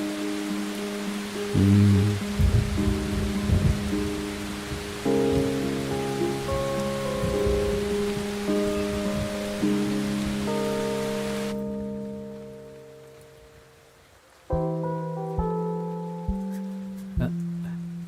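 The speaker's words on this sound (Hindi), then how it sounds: "वो बारिश देखने आई थी।" Steady rain hisses throughout, with sustained tonal hums layered over it; the rain cuts off partway, leaving a few sharp knocks and notes.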